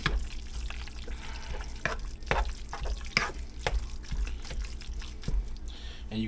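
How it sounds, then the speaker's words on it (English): Hot dogs and sausages frying on high heat on a Pit Boss griddle, chopped and stirred with a metal spatula in a run of sharp, irregular scrapes and clacks over a constant sizzle, close and without talk. "Just chop and stir on it on high heat until it's done."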